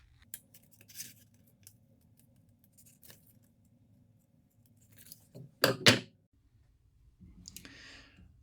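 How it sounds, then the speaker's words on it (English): Scissors snip paper templates for a wooden saltwater stickbait in a quiet room, a few sparse clicks and cuts, then a louder crisp burst of snipping near the end, close and alone. "So let's cut out our templates."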